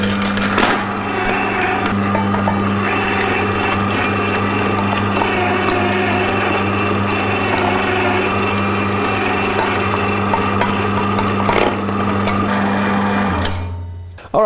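A Royal Catering RCFW-220EXPERT stainless steel electric meat grinder runs with a loud, steady motor hum and mechanical whine that continues unbroken, then cuts off abruptly near the end.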